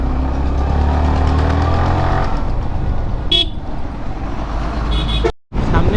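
Traffic jam at Monirampur bazaar heard from a motorcycle rider, with a steady rumble of engines and road noise, a brief horn toot midway, and a short dropout near the end.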